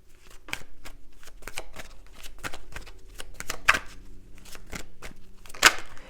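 A deck of tarot cards is shuffled up close in quick, crisp riffles and slaps, a steady run of papery flicks with a few louder snaps.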